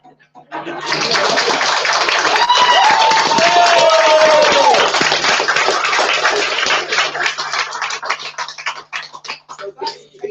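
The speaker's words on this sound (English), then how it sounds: "That means if you liked it, then you can clap." An audience claps after a science rap at a meeting, a dense burst of applause with a few voices and whoops that swells for several seconds, then thins out into scattered claps.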